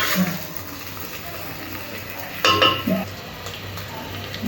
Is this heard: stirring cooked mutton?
yes